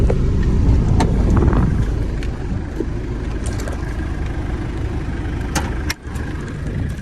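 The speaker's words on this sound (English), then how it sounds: "You hear that turbo, sounds good." A 1996 Mitsubishi Delica L400 4x4 diesel van engine runs steadily nearby, a constant low rumble with a faint turbo whistle riding above it, and no voices.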